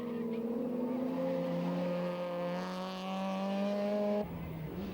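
A Ford rally car races on a short, tricky racetrack, its engine holding a steady high-pitched drone before the pitch drops sharply near the end as it passes.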